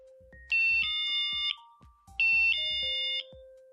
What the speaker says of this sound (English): The chimes let you know that it's being set.